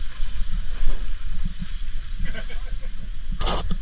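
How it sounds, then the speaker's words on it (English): A motor boat passes close by in a harbour, its low engine rumble and churning water running steadily under nearby talking, with a brief splash near the end. "Nearly got run over by a boat, that's okay."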